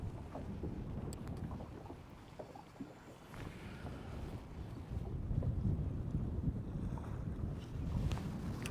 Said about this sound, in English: let me get out of the wind here